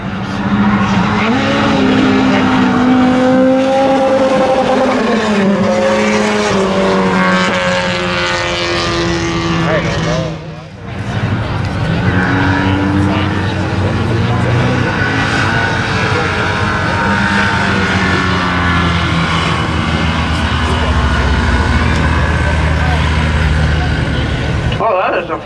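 Class B stock cars drag racing down a strip at Oxford, engines roaring loud and sustained throughout with a brief dip near the middle, while an announcer talks over the noise.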